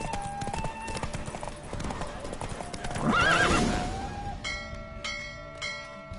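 Horse hooves clip-clop at a gallop in The Witcher video game, a steady rhythmic pounding under game music, with a horse's whinny mid-clip and a spoken voice over the top.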